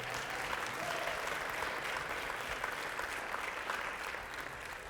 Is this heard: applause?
yes